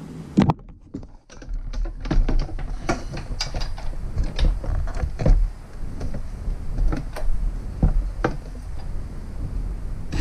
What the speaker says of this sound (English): I'm going to run this in most of the way with a power tool